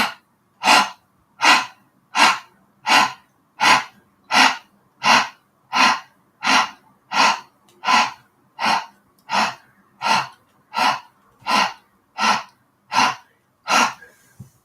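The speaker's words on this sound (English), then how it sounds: "this is Kapalbhati breathing or breath of fire. So we'll take an inhale and exhale through the mouth." Kapalbhati breath of fire, about twenty sharp, forceful breaths pushed through the mouth in a steady, even rhythm, each a short loud puff followed by a brief pause, close to the microphone.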